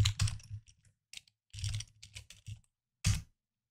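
Typing on a computer keyboard, a short phrase entered into a file, heard as a few close bursts of quick key clicks separated by brief silences.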